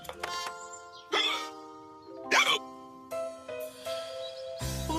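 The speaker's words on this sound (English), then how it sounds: "I think you've got hiccups," A cartoon dog hiccuping in a children's animated show, several short sharp hiccup sounds spaced through the passage, each set against bright tonal musical notes.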